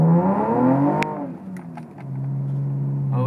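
A 2015 Chevrolet Camaro RS with traction control switched off revs hard as its wheels spin out, engine pitch climbing then dropping, with brief sharp squeals and a steadier engine drone afterward.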